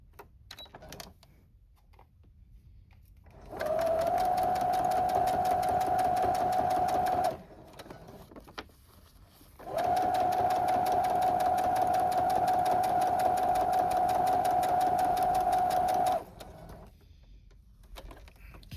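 A sewing machine stitches along the edge of a journal pocket strip in two steady runs, about four and six seconds long, with a short quiet pause between them. The steady motor hum is close and loud.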